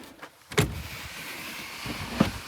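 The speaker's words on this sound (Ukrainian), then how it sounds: "електропривід кришки багажника" The electric power tailgate on a Skoda Octavia A7 Elegance gives two short mechanical clunks about a second and a half apart, with a faint motor hum in between, heard close and without speech.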